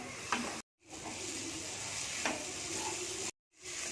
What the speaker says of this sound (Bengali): সামান্য জল দিয়ে ভালো করে মশলাটা কষিয়ে নেব